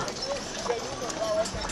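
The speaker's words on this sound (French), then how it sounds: "Une autre charrette tirée par 3 beaux chevaux blonds." Three blond horses pulling a cart clip-clop along a Saint-Jean-Baptiste parade route in Embrun, steady hoof steps running under nearby crowd chatter and voices.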